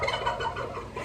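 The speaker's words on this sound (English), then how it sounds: "You can hear the turkeys in the background" Turkeys gobble and cluck faintly in the background, a soft, steady chatter of farm birds with no one talking.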